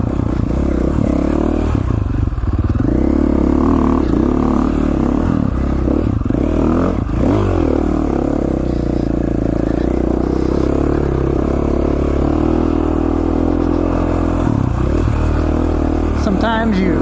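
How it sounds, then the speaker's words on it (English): KTM XCF 450 four-stroke dirt bike ridden on Idaho single track, its engine loud and close throughout, revving up and down with clatter and scraping from the rough trail and a rider talking over it. "Haven't ridden the XCF 450 for a while, so figured I would go ahead and do that."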